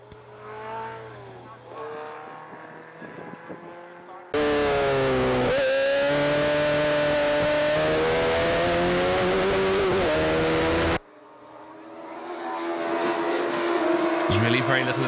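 Sevens race cars accelerating and braking on the Kirkistown circuit, rising and falling engine whine with a loud, distorted stretch in the middle as cars pass close; commentary runs under the engine noise.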